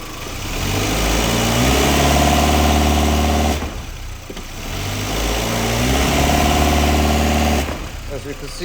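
A 2005 VW Jetta 2.0 with a lean fault runs in gear under load, a loud droning engine with steady low harmonics in two long bursts, each cut off abruptly by a brief dip.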